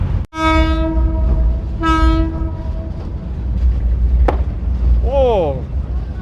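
A train horn sounds in two long harmonic blasts over a steady rumble of rail noise on a train ride in Jordan, followed by a brief sharp crack and a wavering high tone near the end.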